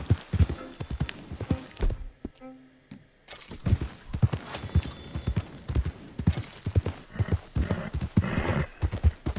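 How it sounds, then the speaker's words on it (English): Horse hooves clip-clop steadily in Red Dead Redemption 2, a rhythmic string of close, fairly loud hoofbeats with a brief quieter gap, and a faint whinny may be mixed in. "I was trying to mount my horse."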